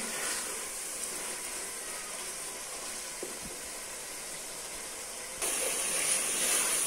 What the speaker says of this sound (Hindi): अब हम इसमें डालेंगे टमाटर, इनको भी अब हम 1 मिनट के लिए फ्राई कर लेंगे अच्छे से